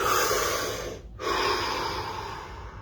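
A deep, drawn-out breath, close and loud: a long inhale, a brief pause, then a slow, steady exhale that fills the rest of the moment, with no talking.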